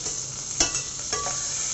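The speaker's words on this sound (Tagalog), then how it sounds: "ilalagay natin yung pork at pag-brown lang tayo dyan po" Pork browns in a hot pan for ginisaang mongo, giving a steady sizzle with a couple of sharp scraping stir strokes over it and no voices.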